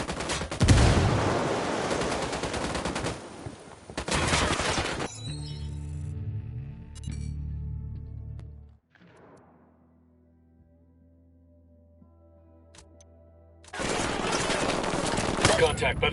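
Heavy machine-gun fire and gunshots in a console shooter game erupt in loud sustained bursts at the start and again at the end, with a quieter tonal stretch of game sounds between them.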